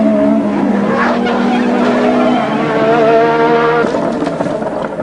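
A 1980s Formula 1 race car losing control on the fastest part of a circuit, its engine holding a loud, high sustained whine that shifts pitch as it slides, with a rougher change near the end.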